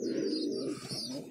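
Pigeons coo in a low, soft, throaty warble, close by and steady, with faint chirps higher up.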